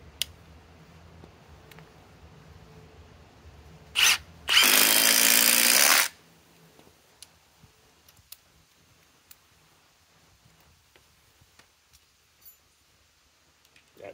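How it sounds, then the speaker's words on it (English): A Milwaukee M18 Fuel Gen 4 2953-20 impact driver on a 6 amp forged battery drives a fastener in one loud, close burst of hammering lasting about two seconds, after a brief trigger blip and surrounded by near quiet. "Milwaukee M18 Gen 4 impact driver, model number 2953-20 with the 6 amp forged battery."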